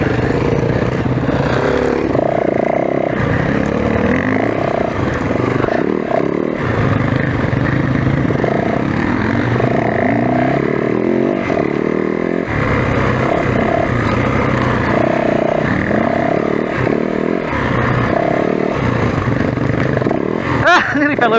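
Dirt bikes on a tight woods and open field autumn trail ride, a Yamaha WR450F and KTMs, roar past steadily with revving engines and clattering over the full stretch, loud and close throughout.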